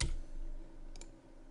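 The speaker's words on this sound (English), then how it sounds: "let's click in here and delete this data" Computer mouse clicks at a desk, a quick pair of faint, crisp clicks over a low background hum, no speech.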